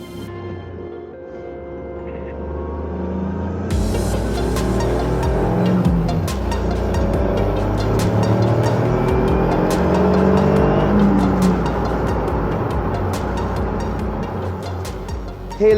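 A Caterham Seven 170S engine picks up loudly after a quiet start and then holds a steady drone with shifting revs while driving on the road, close and continuous, with wind noise.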